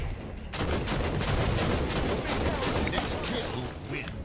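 Rapid bursts of DMR rifle fire in a Halo 5 multiplayer match, sharp repeated shots layered with explosions and other gunfire, dense and continuous after a brief quiet start.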